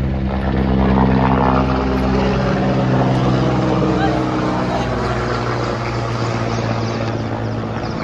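A helicopter drones steadily and loudly overhead, its rotor throbbing in a dense, continuous roar that fills the whole stretch without letting up.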